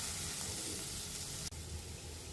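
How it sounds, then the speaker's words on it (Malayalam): Vegetables stir-frying in a hot pan with a quarter teaspoon of Ching's Secret Schezwan fried rice masala, giving a steady, close sizzle with one brief dip midway and no talk. "മസാല വെജിറ്റബിൾസിൻ്റെ കൂടെ ചേർത്ത് ഒന്ന് ഇളക്കിയെടുക്കണം"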